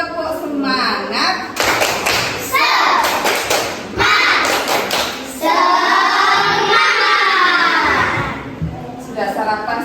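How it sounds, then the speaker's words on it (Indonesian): Schoolchildren in a fourth-grade classroom do a rhythmic spirit clap, tepuk semangat: sharp patterned claps and thumps in quick bursts under loud chanting and shouting young voices, filling the whole stretch close by. "Tepuk semangat."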